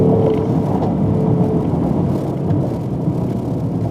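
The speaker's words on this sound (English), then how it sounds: "Listen to that engine." A deep V6 engine rumble from a 2017 Mercedes-Benz GLE 450 AMG SUV holds steady and close, a throaty idle-to-rev drone with no voices over it.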